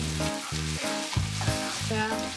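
Garlic, ginger, red chilies and pickled chilies sizzling in a wok with stir-fried pork, a close, steady crackle broken by rhythmic scraping and tossing strokes about every half second.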